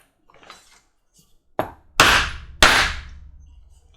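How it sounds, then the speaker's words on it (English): Three sharp hammer blows drive a 1-inch bag punch through holster leather, each strike close and loud with a short ringing decay, following a few faint taps. "And then I just take a 1-inch bag punch."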